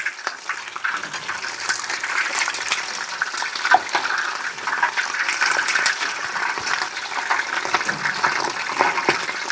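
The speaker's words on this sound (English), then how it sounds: "When you put them in the oil, be careful, do it nice and slow" Chicken wings lowered into hot oil in a deep fryer, a steady loud bubbling hiss and crackle that persists throughout without talk.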